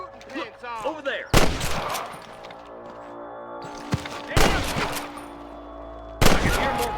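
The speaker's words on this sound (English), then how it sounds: "I can hear more gunshots." Gunfire in the Red Dead Redemption video game on PC: three loud, sharp bursts of shots spaced a few seconds apart, each with a long ringing tail, over a busy game soundscape with faint voices.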